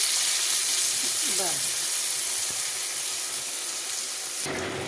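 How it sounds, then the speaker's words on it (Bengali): Hot water poured into a pan of chicken and vegetables frying for an Anglo-Indian chow chow, making a loud continuous hiss and sizzle that holds steady throughout, with a brief voice in the background. "এবার গরম জল দিয়ে দেবো আমি, বেশি জল লাগবে না।"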